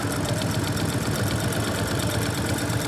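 A brand-new Juki LU-2810V-7 walking foot industrial sewing machine runs at a trade show, giving a steady, close motor hum with a fast, even mechanical pulse that continues without a break.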